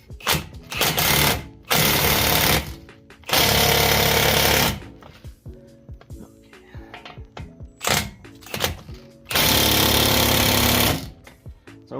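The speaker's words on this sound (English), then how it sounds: "So I'm going to put a fresh battery in this impact and torque it down real quick." Loud bursts from a cordless impact wrench hammering a 32mm CV axle nut tight on a Mazdaspeed 3, several rattling runs of a second or more separated by quieter clicks and handling noise.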